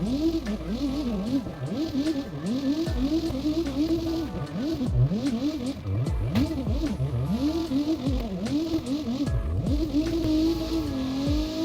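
A car drifts a lap of Navarro in the video game CarX Drift Racing Online: engine revs rise and fall repeatedly in quick swoops, with tire squeal and a steady loud tone throughout, no talk.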